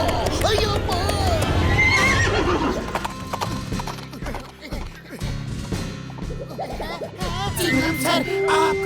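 An animated cartoon horse neighs and whinnies loudly over rhythmic clip-clopping hooves, mixed with crashes and excited cartoon voices talking throughout.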